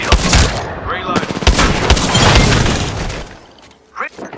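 Loud bursts of rapid gunfire from the video game Apex Legends on Nintendo Switch crackle close up, with game voice lines mixed in and a quieter tail at the end.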